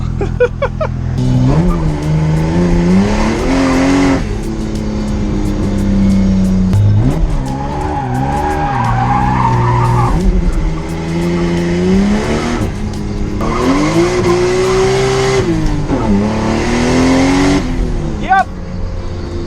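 A Mitsubishi Evo X race car with old Japanese turbos revs loudly and repeatedly, engine pitch climbing and falling in long sweeps with sharp bursts between, close by.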